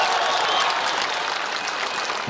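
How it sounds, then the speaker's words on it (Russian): Dense, steady applause and scattered whistling from a large crowd gathered at a silent street protest, a continuous loud wash of clapping with no speech. "только свист и аплодисменты."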